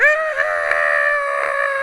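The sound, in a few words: person imitating a scream from the video game Riddle School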